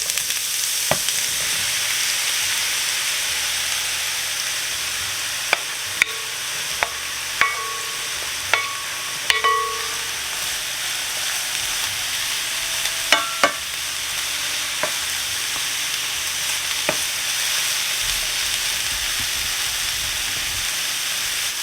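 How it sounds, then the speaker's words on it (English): Diced eggplant fries in hot oil over medium heat, giving a steady sizzling hiss with occasional utensil clicks and light stirring taps, close and continuous with no talking. "The oil is heated up, so now I'll be putting my diced eggplant in."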